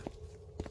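Two soft footsteps in the Roblox horror game Missing Elvira, quiet and close together over a low steady hum.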